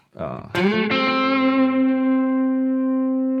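A distorted electric guitar lead tone through the Blackstar St. James amp plugin on its second channel, a picked note bending up then sustaining, loud and alone with light effects.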